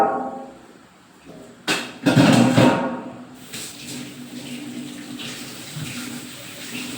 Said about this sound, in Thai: ล้างเขียงล้างกระมังล้างถาดปิดนะจ๊ะ